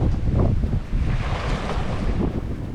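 Ocean waves surge near a reef while sailing, with rushing water and heavy buffeting wind on the microphone, loud and close, rising and falling in uneven swells without speech.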